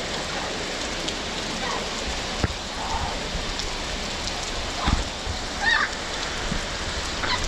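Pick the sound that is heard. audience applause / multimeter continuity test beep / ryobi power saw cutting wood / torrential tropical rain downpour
torrential tropical rain downpour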